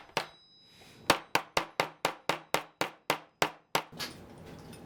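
Steel pins hammered through the handle of a machete made from a saw blade, with epoxy setting: about a dozen sharp, evenly spaced metallic hammer strikes, close and loud, ringing briefly between blows.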